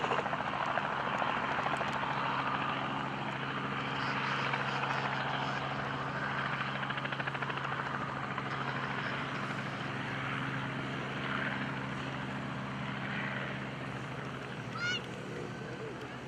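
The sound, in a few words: SF-260 military airplane flying at airshow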